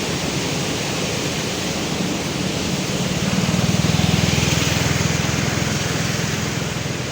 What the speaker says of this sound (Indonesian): Di sini air sedang deras-derasnya karena musim hujan.